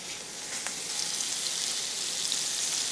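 Beef burger patties sizzle in a hot skillet, a steady, bright hiss that fills the whole stretch at close range with no speech over it.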